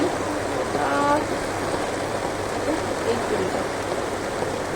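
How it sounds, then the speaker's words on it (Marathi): Continuous patter of rain with a steady watery hiss, a low hum underneath and a brief tonal sound near the start. "आज पाऊस आला"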